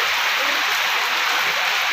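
Heavy rain pours down as a continuous, even hiss that is loud and close throughout, with no break and no talking over it.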